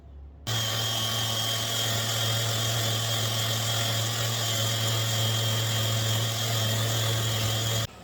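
A Festool orbital sander runs steadily across the flat top of a dresser being refinished, a loud continuous motor whine with a low hum, starting abruptly and cutting off near the end, with no talking.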